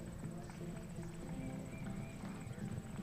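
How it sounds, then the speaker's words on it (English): Horse hooves beat a quick rhythm over ground at a show jumping grand prix, clip-clopping steadily under arena background noise and a faint high whine. "Very quick foot speed on this horse."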